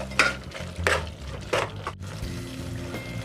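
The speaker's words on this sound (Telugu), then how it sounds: "మంచిగా కలుపుకుందాం" Gongura paste is stirred into a chicken curry in a pot, with several distinct scraping strokes of a spoon against the pan over a low background simmer.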